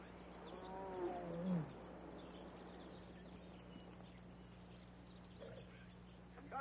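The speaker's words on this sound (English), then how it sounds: "Ganga, you must get rid of this tiger." Taku, a tiger, lets out one deep, rumbling roar early on, close and fairly loud, followed by quiet low background hum.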